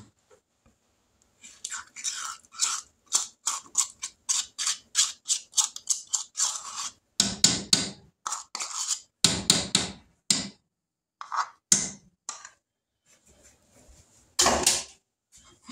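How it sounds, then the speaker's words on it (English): A spoon scrapes and knocks in a rapid, regular rhythm while stirring a thick marshmallow fluff and peanut butter fudge mixture in a pot, with brief pauses between strokes. "you want to stir it until all those clumps of that marshmallow fluff is all dissolved"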